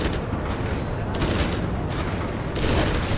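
Quad cannon fire in the Command & Conquer Generals: Zero Hour strategy game, a dense, continuous barrage of rapid booming shots that swell again near the end, heard over a busy battlefield din.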